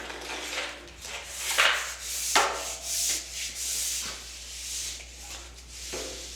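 Drywall being cut and creased, heard as close scratchy scraping and rubbing strokes with a few sharper cracking snaps, fairly quiet and without talk.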